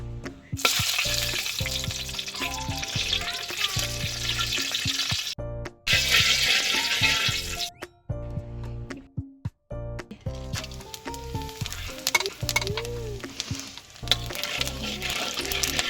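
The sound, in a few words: whole spices tempering, sizzling in oil and ghee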